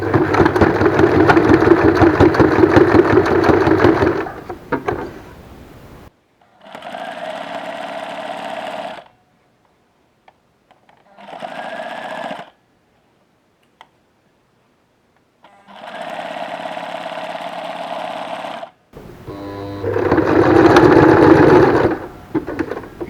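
A sewing machine sews a straight seam 1 cm from the edge of a cushion cover. Loud, close whirring runs in several bursts of varying length, separated by short pauses, with no speech.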